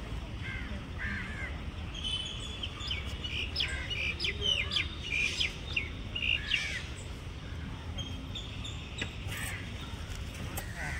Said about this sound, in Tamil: இங்கே காக்காவை விட பீஜியன் தான் நிறைய இருந்தது.